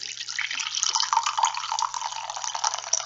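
Numi Lavender Dream flowering tea is poured close-up into a cup, making a continuous, light liquid trickle that runs for about three seconds without any talking.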